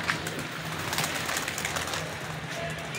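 Pigeons being flown from bamboo perches and rooftops coo softly amid faint outdoor noise, with occasional distant voices in the background.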